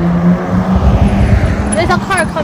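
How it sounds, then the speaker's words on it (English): A motor vehicle rumbles steadily in the background while people talk close by, the engine noise building slightly as it draws nearer. "There's a car coming."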